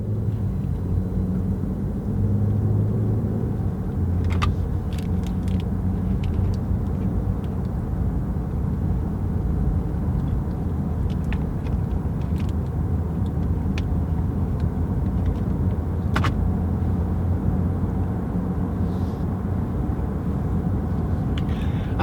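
A car drives along a road in a steady low rumble of engine and tyre noise heard from inside, with a few faint clicks and ticks over about twenty seconds and no talking.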